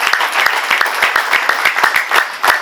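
A church congregation clapping in unison, loud rhythmic claps at a brisk steady beat over a crowd wash, close and continuous.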